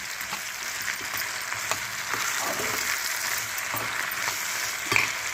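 Okra and tomato curry frying on high heat in a pan, a steady close sizzle and crackle with small pops and a few stirring scrapes throughout.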